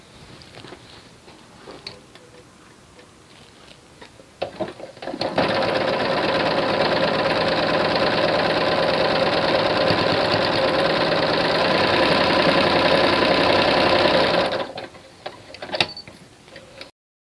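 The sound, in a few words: sewing machine stitching fabric along lines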